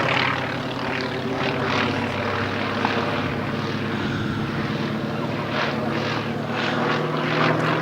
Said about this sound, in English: just slowly putting the aircraft through some of his paces